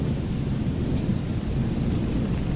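Constant, loud rainfall hisses over a deep thunder rumble in the Wickie video game with the rain debug setting enabled, an unbroken stormy wash with no talking.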